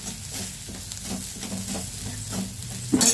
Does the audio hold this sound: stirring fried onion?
yes